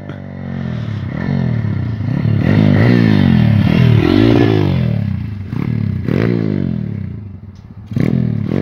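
A pit bike engine revs repeatedly while being ridden outdoors, loud and close, rising and falling in a series of throttle blips with some rattling clatter between them.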